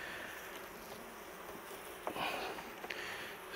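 A honeybee colony hums softly in an opened hive, a faint, steady buzzing with a few brief louder rustles toward the end.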